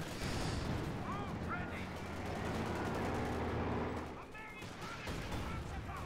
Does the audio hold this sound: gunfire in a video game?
yes